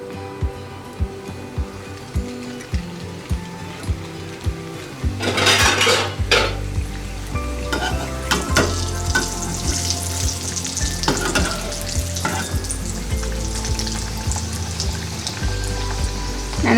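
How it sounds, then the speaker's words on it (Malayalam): Bhatura dough frying in well-heated oil hisses with a steady, loud sizzle that flares up as the dough goes in, joined by scattered clinks of a utensil against the pan. "ഇനി നമുക്കത് ഒന്ന് വറുത്തെടുക്കാം. എണ്ണ നന്നായിട്ട് ചൂടായിട്ടുണ്ട്."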